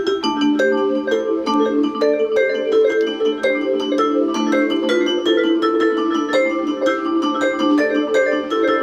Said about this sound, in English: Or another typical sound would be echo.